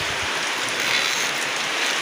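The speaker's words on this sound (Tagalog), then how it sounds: "Lakas ng ulan at hangin." Heavy rain with gusting wind near a school in Tres Marias, a dense, steady hiss of downpour filling the whole stretch without a break and no voices.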